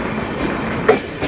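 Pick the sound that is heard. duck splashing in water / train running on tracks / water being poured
train running on tracks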